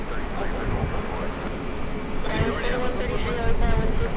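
Jet airliner passing at LAX, a steady broad engine roar that swells louder toward the end, with people talking over it.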